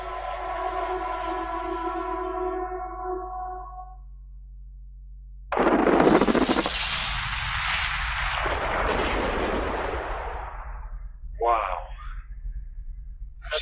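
Explosives blast at a gold mine, a sudden loud roaring burst that rumbles on for several seconds, followed by a shorter secondary crack, after a steady droning tone at the start.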